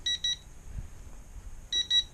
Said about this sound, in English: a beeping of the transmitter and a flashing means that the battery is